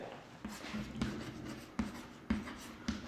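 Marker or chalk strokes on a classroom board during a maths lecture, a series of short scratchy squeaks and taps in uneven rhythm, close and fairly quiet, with no talking.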